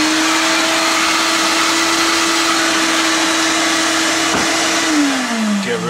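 A vacuum cleaner clears metal dust from filing guitar frets, roaring with a steady whine at close range before the motor pitch starts falling as it winds down near the end.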